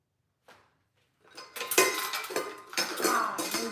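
Cutlery and dishes clatter as someone rummages for a knife in a home kitchen, with a faint clink at first and then a sustained jumble of jangling metal and knocking plates, close and moderately loud.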